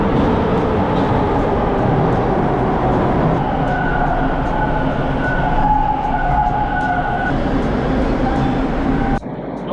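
Toronto subway train at Spadina station, a loud steady rumble of the moving car with wheel and track noise throughout, faint tones drifting above, ending in a sharp clunk near the end.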